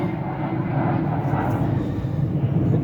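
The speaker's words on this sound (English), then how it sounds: "so many planes today" Aircraft drone steadily overhead above an allotment plot in the UK, a continuous low rumble filling the background, with no one talking.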